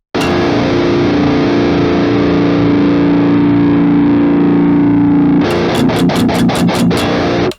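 A sustained distorted electric guitar chord rings out, then gets chopped into a rapid series of abrupt on-off bursts as a gate cuts it.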